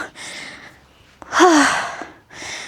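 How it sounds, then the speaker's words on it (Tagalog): Heavy, audible breaths from a person winded after walking: a couple of loud, rasping inhales and exhales with a strained, voiced gasp in the middle, close to the microphone and otherwise quiet. "Hingal."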